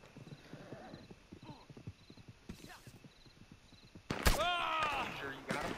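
Hooves clip-clop in a quick galloping rhythm in Red Dead Redemption 2, then a horse whinnies loudly near the end, with faint game sounds in the background.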